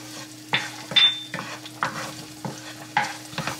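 Grated ginger and chili flakes cook in a pan, with a soft sizzle under several distinct scraping strokes of a utensil stirring at irregular intervals, close and clear.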